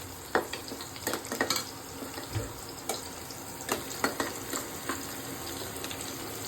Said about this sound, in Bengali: अच्छा से फ्राई होने दो, बाद में मसाला डालूंगी।